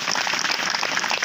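Applause for bhajan singers from Janefal at a devotional gathering: a dense, steady wash of many hands clapping close by, sustained without pause and with no voices.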